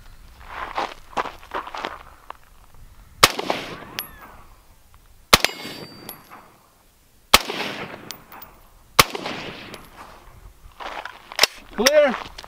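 Rifle rounds in 5.56 fired at an outdoor shooting range: about five sharp, loud cracks spaced roughly two seconds apart, with quieter talk and movement between shots.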